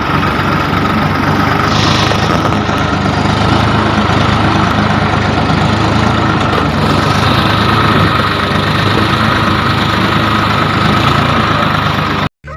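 A tractor engine drones steadily throughout, loud and close, with a constant low rumble and slight vibration before cutting off abruptly at the end.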